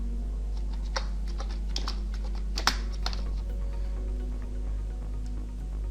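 Quick bursts of keystrokes on a computer keyboard, clicking closely over a steady low hum with no voices.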